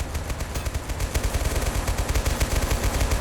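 Rapid, rattling automatic gunfire in Total Conflict: Resistance, a dense loud stream of machine-gun bursts with no pauses and no voices.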